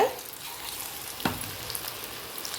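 Prawns fry in a modest amount of oil, hissing in a continuous close sizzle with a sharp pop near the middle and light crackling throughout.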